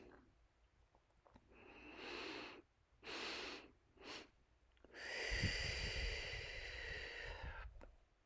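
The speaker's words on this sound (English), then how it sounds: "Audible exhales like you're breathing through a straw." Slow, audible breaths through pursed lips as if through a straw, several drawn-out exhales and inhales with pauses between, the last long and loud, close and quiet, taken during a pelvic floor and core workout.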